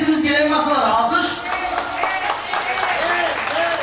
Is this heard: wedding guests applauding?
yes